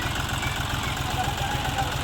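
A tractor engine idles steadily in the open morning air, its low, even knocking pulse running without break and fairly close, with no one speaking over it.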